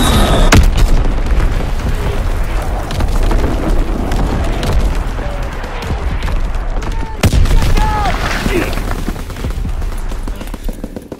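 Artillery strikes in Call of Duty WWII on the Gibraltar map: repeated heavy booms and explosions with bursts of gunfire, loud and dense, with voices heard amid the battle.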